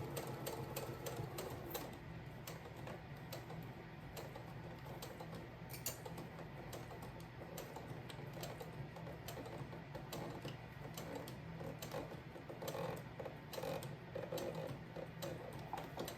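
A sewing machine stitches binding onto a quilt, a soft rapid mechanical rattle of needle strokes that runs steadily at low level with a few brief pauses, with no talking.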